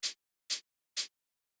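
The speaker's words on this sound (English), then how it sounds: "The next thing we have here is the shaker," Three crisp, hissy shaker hits from a deep techno track, evenly spaced about half a second apart, short and dry with silence between them.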